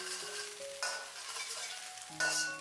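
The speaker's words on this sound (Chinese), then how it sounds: "用锅铲稍微的划成小块一些" Eggs fry in a pan while a spatula cuts them into small pieces, giving a steady sizzle with two louder scraping bursts and faint background music.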